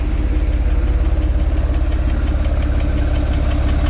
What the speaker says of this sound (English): So it's got a little tiny click, lifter noise you guys might be able to hear